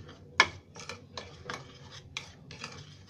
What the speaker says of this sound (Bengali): প্রথমে আমি চালের গুঁড়া নিয়ে নিচ্ছি তারপরে আমি চিনি নিয়ে নিব চিনি নিয়ে আমি একটু এটার সাথে মিশিয়ে নিব